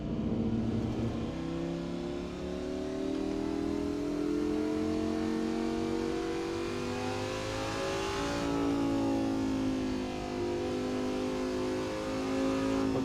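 A race car engine in the Assetto Corsa racing game revs hard and climbs steadily as it accelerates toward full speed. The droning, buzzing tone is loud and continuous, with a pitch shift partway through and no talking.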